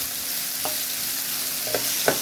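Boiled chickpeas sizzling in a hot tempering pan with reddened chillies, a steady loud hiss with a few faint stirring taps, no talk.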